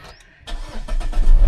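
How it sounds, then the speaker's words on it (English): A car engine cold-starts after a brief quiet moment: the starter cranks, then the engine catches and settles into a growing, close, steady idle rumble. "This is on a cold start, by the way, of my second car."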